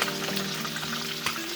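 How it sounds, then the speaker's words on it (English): A shrimp cake flipped in a pan of hot oil and butter fries with a dense, steady sizzle, a soft scrape or two of the spatula heard briefly, no talking. "Now I'm going to go ahead and flip this first one that I flipped early."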